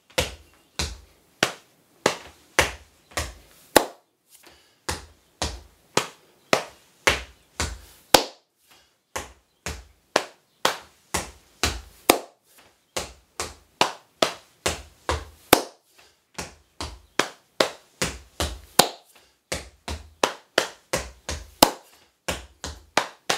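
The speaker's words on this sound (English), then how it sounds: "stamp, tap, tap, stamp, stamp. And then finally, a clap at the end." Body percussion in a music lesson: sharp, close, evenly spaced hits in repeating patterns of stamps, taps and claps, each phrase ending with a clap, separated by brief pauses.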